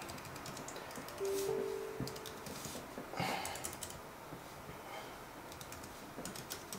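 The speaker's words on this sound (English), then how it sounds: "And let me just go here and type whatever." Typing on an Apple Bluetooth keyboard makes faint, quick key clicks in short irregular bursts over a hushed room background.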